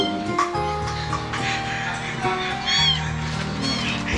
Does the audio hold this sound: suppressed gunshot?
no